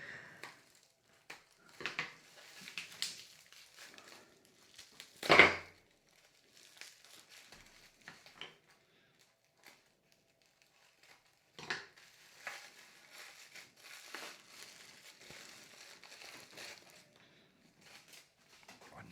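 Plastic packaging crinkles and rustles quietly in short, irregular bursts, with one louder crunch partway through and brief pauses between handling sounds, while a jaw harp is unboxed.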